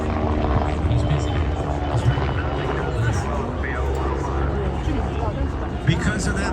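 A rigid-rotor helicopter flies at the 2024 MCAS America's Air Show, a steady rotor thrum and turbine whine at moderate distance, with people talking over it.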